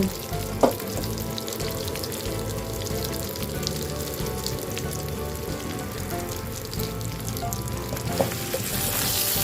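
Minced tilapia dry-roasting in a pan for northern Thai larb, a dense continuous sizzle and crackle with scraping stirs, close and fairly loud with no talking.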